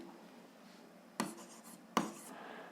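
A pen scratching on paper while solving an algebra exercise, two short quiet strokes close by against a soft background hiss.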